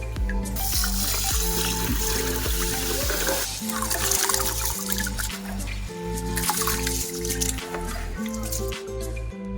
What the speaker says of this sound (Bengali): চাল ধুয়ে নিচ্ছি